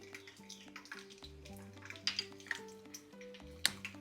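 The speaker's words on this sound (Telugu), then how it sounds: "నూనె కాస్త వేడెక్కిన తర్వాత ఇందులో ఎండుమిరపకాయలు అలాగే" Dried red chillies and garlic fry in hot groundnut oil while cauliflower pickle is made, giving a faint, low sizzle broken by soft clinks and scrapes of a utensil in the pan.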